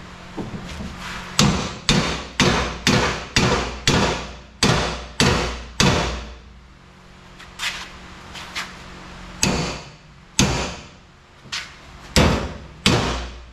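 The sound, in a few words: hammering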